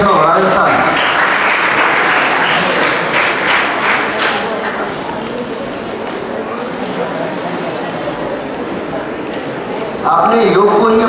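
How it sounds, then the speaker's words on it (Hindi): Audience applause at a Miss Yoga India event, dense sustained clapping from a crowd filling most of the stretch, fading before a voice begins speaking at the end. "कम से कम ताली बजाइए"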